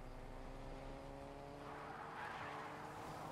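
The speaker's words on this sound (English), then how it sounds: "I'm doing burnouts." A car in a Fortnite match does burnouts, its engine droning steadily with tire squeal and skidding noise that swells partway through, continuous and fairly faint.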